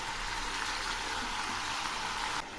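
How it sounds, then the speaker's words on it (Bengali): Beans and vegetables frying in a pan over low heat give a steady, close, soft hiss and sizzle that runs without a break, with no voices over it. "এই সবজিগুলো আমি লো আঁচে কিছুক্ষণ ভেজে নেব।"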